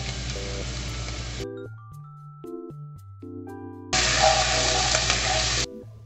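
Garlic sizzles in a pan for two loud, hissing stretches, with stepping background music playing throughout and carrying on alone in the gap between them.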